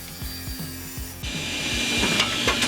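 A saw rips the wooden side pieces of a mold for a concrete epoxy river table, a rapid, rhythmic rasping of strokes heard close up and growing a little louder and brighter partway through.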